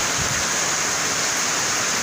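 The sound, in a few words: heavy rain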